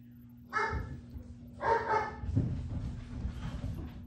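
Dogs bark excitedly in a couple of loud bursts from somewhere above, followed by fainter yips, heard indoors over a steady electrical hum in an arcade machine restoration workshop.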